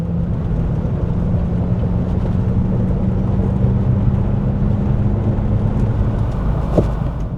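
A Subaru Forester fitted with coilovers rolls along a gravel road, producing a constant low engine drone and rough rumbling road noise from inside the cabin, with a faint knock near the end and no voices.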